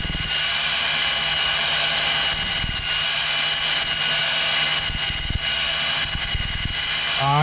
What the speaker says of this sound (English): Now I'm just moving the hone up and down